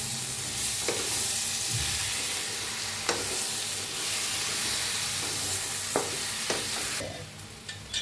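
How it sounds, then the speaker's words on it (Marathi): Ground peanut powder being stirred into brinjal frying in a pan, with a steady sizzle under scraping spoon strokes and a few sharp clinks against the pan, no voices. "आपण शेंगदाण्याचं कूट घेतलंय बघा असा बारीक कुटून घेतलाय मिक्सरला ते टाकूया भाजी मिक्स करूया"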